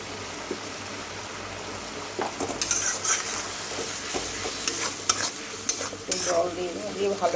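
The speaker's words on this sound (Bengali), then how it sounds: "মশলাটাকে আমি কষিয়ে নিই" Spice paste for a jackfruit curry sizzling in a pan as it is stirred and fried, a steady close hiss with scraping utensil strokes against the pan.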